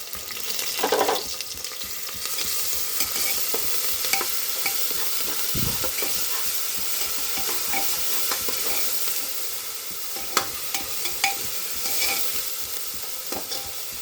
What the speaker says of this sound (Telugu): ఇప్పుడు ఈ కూరకు సరిపోయినంత నేను పేస్ట్ చేసి రెడీగా ఉంచుకున్న ఈ పేస్ట్ను ఇందులో వేసేస్తున్నా.